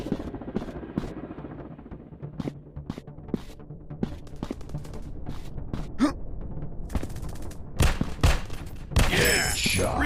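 Rapid gunfire bursts and single shots ring out in a counter-terrorist first-person shooter game, sharp repeated cracks with thumps, getting denser and louder toward the end, with game voices calling out.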